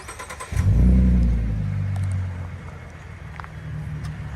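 2017 Ford Mustang 3.7L V6 with muffler delete or straight pipes, a sharp start-up blip into a deep loud exhaust roar that settles into a rumbling idle, fairly close.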